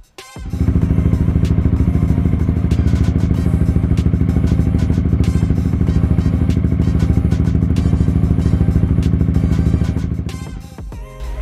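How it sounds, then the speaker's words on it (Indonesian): Yamaha XMAX scooter with a 300cc bore-up engine running loud and steady at close range, a dense continuous mechanical drone with clattering texture for about ten seconds before it cuts off. "mari kita dengar dulu suara dari X-Max ini"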